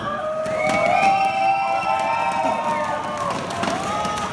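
A rock-contest semifinal crowd cheering loudly, with whoops and sustained high shouts rising and falling over a dense, close roar of audience noise.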